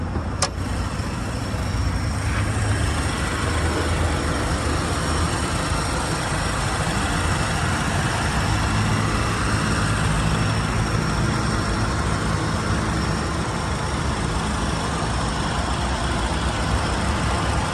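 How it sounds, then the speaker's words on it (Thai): A Honda Accord G8 Mugen engine idles smoothly under broadband noise, a steady low hum that holds an even level from start to finish with no speech. "เครื่องยนต์เดินนิ่มเรียบนะครับ"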